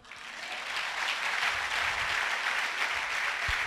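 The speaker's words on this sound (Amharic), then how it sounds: "አጨብጭቡና አሜን በሉ።" Church congregation applauding, a broad sustained wash of many clapping hands that swells quickly and holds steady, heard from within the room.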